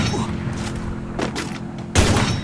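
Gunfire in the battle-royale game Free Fire comes as a few sharp bursts of shots over steady in-game background noise, loud and close, with a final heavy burst near the end.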